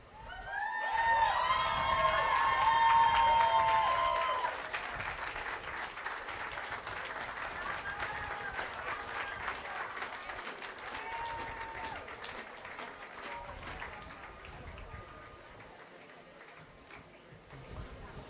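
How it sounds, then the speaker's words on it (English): Rally crowd applauding loudly, the clapping peaking early then holding steady and slowly thinning toward the end, with scattered cheers and whistles mixed in. "another round of applause."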